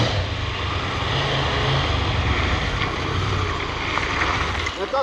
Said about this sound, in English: Cam's giving it full bursts of the throttle, with the electronics stepping in to stop the bike stepping out